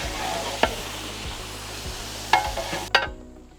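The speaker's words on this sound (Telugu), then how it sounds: "ఇవి కర్రీతో పాటు క్యాష్యూ నట్స్ చక్కగా బాయిల్ అవుతున్నాయి" Cashew chicken curry cooks in a pan as a steady low bubbling and sizzle, with a few sharp clinks of a utensil against the pan breaking through, close and without talk.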